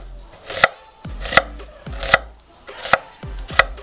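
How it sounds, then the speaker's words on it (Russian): A knife chops through a halved onion on a cutting board in a home kitchen, five sharp, evenly spaced strikes close by with a soft wooden knock on each, no voices. "Следующее, что нарезаю, это у меня лук."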